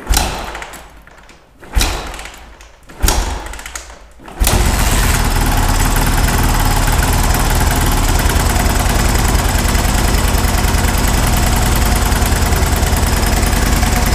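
A 1987 Honda TRX 350X ATV engine cranks in a few short bursts, then catches and runs at a steady, loud idle for the rest of the clip, close by.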